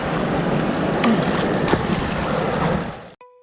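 Rushing water from Khao Chong Lom waterfall in Nakhon Nayok during the rainy season pours in a steady, dense roar close by, without speech, then cuts off abruptly near the end.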